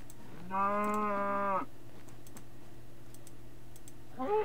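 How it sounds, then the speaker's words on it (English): A long drawn-out synthetic cow moo from Minecraft, loud and close, followed by quiet clicking and the start of a second moo at the end. "Oh my god, there's so many cows."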